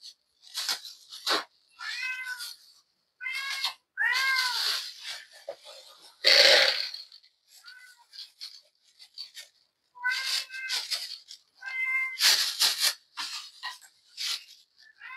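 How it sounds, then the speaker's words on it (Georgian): Several cats meow repeatedly in short, insistent bursts, loud and close, with one harsher cry in the middle and brief pauses between calls. "ჩემი კამერის ჩართვა და ამათი კნავილი ერთია ხოლმე"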